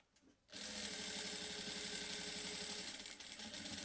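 A sewing machine stitches a bag in one steady run, starting abruptly after a quiet moment and holding a fast, even mechanical whir close by until near the end.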